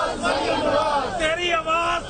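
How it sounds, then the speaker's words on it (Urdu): A crowd outside the Judicial Academy chants slogans for Maryam Nawaz, loud, rhythmic voices rising and falling in unison close up. "جوڈیشل اکیڈمی کے باہر مریم نواز کے حق میں نعرے"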